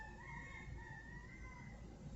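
Several roosters in a parking lot, a faint, distant crow drawn out over a couple of seconds against a low background rumble.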